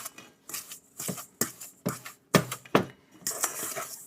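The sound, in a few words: mixing butter into banana bread batter by hand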